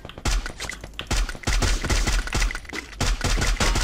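Rapid bursts of gunfire in the video game Free Fire crack in clusters, sharp and punchy, with brief pauses between volleys and no talking.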